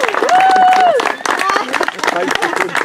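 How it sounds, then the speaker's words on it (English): Wedding guests applaud and cheer after the vows, a dense burst of clapping with whoops and crowd chatter, loud and close throughout. "We can applaud, yes."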